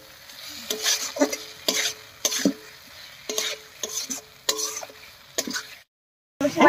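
Mustard paste and slit green chillies are stirred and sautéed in a pan for a Bengali koi fish curry in oil. Several close scraping strokes are heard over a steady sizzle, with a short pause before the stirring starts again.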